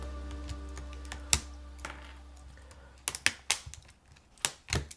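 Clacky keystrokes on a Ducky mechanical keyboard, a few isolated taps early, then a quick irregular burst of sharp, close presses over a low steady hum.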